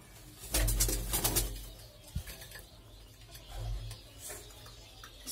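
Pigeons of several fancy breeds cooing and calling in a loft, low throaty coos with a burst of wing flapping early on, close by and moderately loud, no talking.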